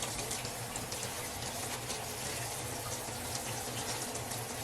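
Tap water runs steadily over cabbage in a strainer at a kitchen sink, a continuous soft splashing rush with no voices.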